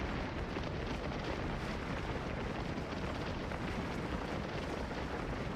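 Continuous rumbling barrage of Civil War cannon fire at Gettysburg in Scourge of War, a dense, distant wash of booms blending into a steady roar with no distinct pauses.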